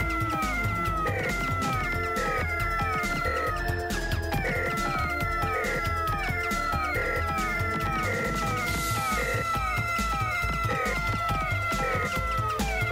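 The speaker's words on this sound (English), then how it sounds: "that meowing isn't annoying at all!" Repeated electronic cat meows from the Sega CD shooter Keio Flying Squadron, rhythmic and looping over dense game music with a steady beat, loud throughout with no voices.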